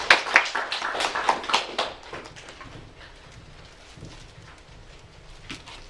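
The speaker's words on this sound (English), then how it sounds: "Give them a round of applause, please." A short burst of applause at a school performance showcase, quick claps for about two seconds, then it dies away into a quiet room.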